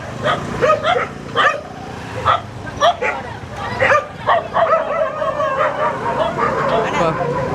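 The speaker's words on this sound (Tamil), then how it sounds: "இப்போ நாய் வந்து பிரச்சனை பண்ணுது பட்டத்தை பார்த்து" A dog barks repeatedly in short sharp yips and bow-wows, close by, with some whimpering and background voices.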